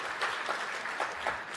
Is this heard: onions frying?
no